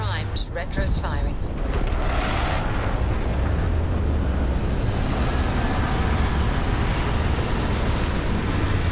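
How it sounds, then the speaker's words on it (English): Retro rockets fire as a spaceship sets down to land in Starfield, a heavy, continuous roaring rush that swells at the start and holds steady and loud, with a voice speaking briefly over it early on. "Landing struts primed, retros firing."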